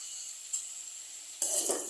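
A sweetened mixture is stirred in a cooking pan over a faint steady hiss. A light clink comes partway through, then a louder scraping burst of utensil against pan near the end.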